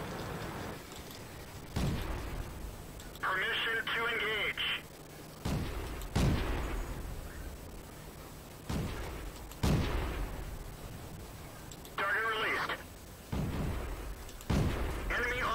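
Tank cannon shots in World of Tanks, several sharp booming blasts spaced seconds apart amid rumbling engine noise and bursts of warbling effects, with someone talking between the shots.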